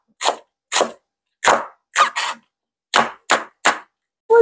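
A knife finely chops green onion on a cutting board in about nine crisp, separate strikes at a slightly uneven pace, close and loud against silence.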